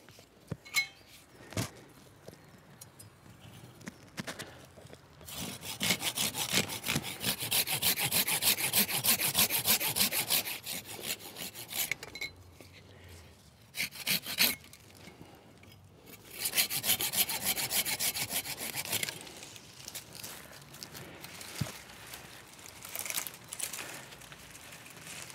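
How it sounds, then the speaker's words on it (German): A hand saw cuts low through a branch of a wild fruit hedge, with steady rhythmic back-and-forth strokes coming close and loud in two long bursts, separated by pauses and light rubbing and clinking. "gehen wir viel tiefer und sägen den hier unten ab"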